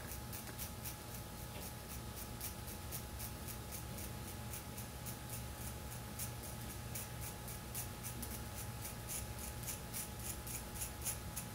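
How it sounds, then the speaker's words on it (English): Scissors snip slowly through a section of hair during a home trim of wispy layers, giving a steady run of soft, crisp cuts close to the ear under a faint constant hum. "I grab a section of hair, I begin at the chin, and I start to cut in"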